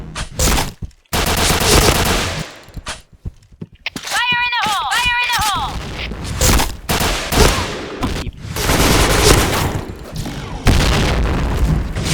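Loud, dense video game gunfire with heavy booming blasts and rapid bursts, broken by brief pauses, with a metallic ringing effect partway through and a voice talking over the shooting.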